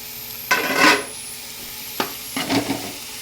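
Green chillies frying in a pan of hot oil while chicken curry is cooked, with two bursts of sizzling and stirring scrapes separated by brief quieter pauses, close and fairly loud.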